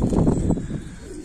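Pigeons cooing inside a loft of prized racing pigeons, a dense low murmur of overlapping coos that is loudest at the start and softens toward the end.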